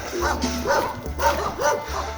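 Dogs barking outdoors in a rural valley, several rhythmic woofs and yips in quick succession at moderate distance.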